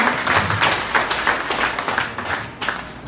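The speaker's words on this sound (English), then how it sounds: "let's give a big round of applause to our product" A room of audience members claps for a product presentation, a close, lively burst of hand claps with uneven rhythm that thins slightly toward the end.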